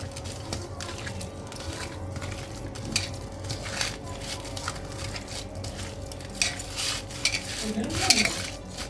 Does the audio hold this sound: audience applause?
no